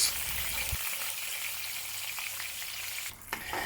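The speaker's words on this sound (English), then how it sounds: "Shallow fry it for 2 minutes each side or until it starts to form some char" Pork knuckle shallow frying in oil in a pan, with a steady, close sizzling crackle of hot oil throughout and a brief dip in the noise near the end.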